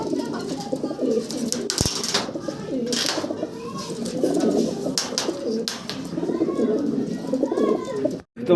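German Beauty Homer pigeons coo steadily and close by, soft overlapping calls filling a pigeon farm with caged birds, with faint voices in the background.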